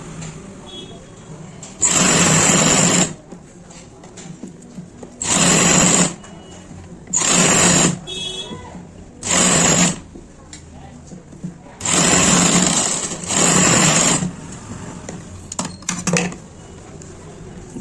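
A sewing machine stitches a pant pocket in several loud, close bursts of rapid whirring, each lasting one to two seconds, separated by quiet pauses with soft handling noises and a voice speaking.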